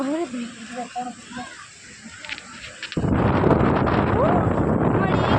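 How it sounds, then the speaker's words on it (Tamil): Strong wind buffets the microphone at the Kanyakumari lighthouse by the sea, a loud steady roar that surges and stays heavy through the second half, with a voice speaking over the gusts early on. "ஐயோ இன்னும் எப்படி காத்தடிக்குது, பயந்துட்டேன்."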